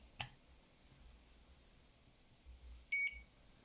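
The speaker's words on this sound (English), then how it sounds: "We had a beep out of it" A Raspberry Pi Pico board powers up and gives a short, faint electronic beep in an otherwise quiet setting, preceded by a soft click.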